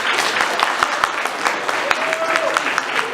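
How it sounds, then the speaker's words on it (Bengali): A live audience at a Bengali stage drama performance applauds the drama troupe with steady, dense clapping throughout, fairly close and sustained, with a faint whistle-like tone partway through. "তার আগে আমি চাই এদের সবার জন্য একটা করতালি"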